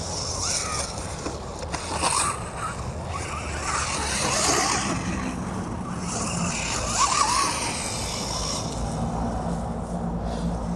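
MJX Hyper Go H14BM brushless 1/14 scale RC car driving outdoors on a cool day, a continuous rushing whir with rising and falling motor pitch and gritty tire scrabble, fairly loud and alone.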